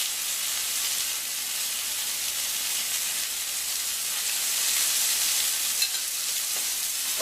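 Kangaroo fillet steak searing in a hot pan, a steady close hiss and sizzle that holds evenly throughout, with a faint tick near the end.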